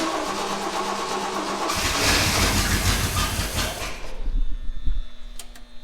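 A fire-damaged 1965 Rambler 770 convertible engine cranks and tries to catch, a loud, continuous churning and rumbling that builds in the middle and then breaks into rougher, uneven sputters before trailing off.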